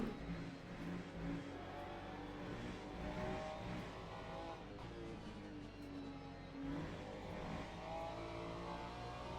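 Ferrari GT3 race car engine in the Le Mans Ultimate sim racing game at Sebring, droning steadily and continuously at moderate level with shifting revs and no talk.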